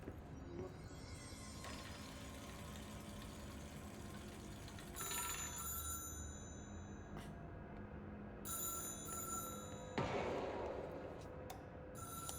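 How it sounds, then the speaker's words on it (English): A telephone rings inside the video game Control, a repeated electronic bell pattern in short bursts over a low ambient drone, moderately faint with no talk. "Oh, phone."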